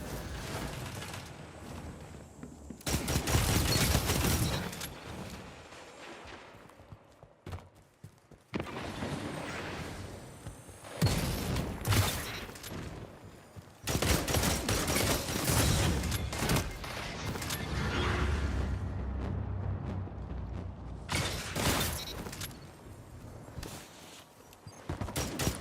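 Dense bursts of game gunfire from a Sturm hand cannon in Destiny 2 come in loud rapid volleys separated by short lulls, with booming impacts layered in the mix.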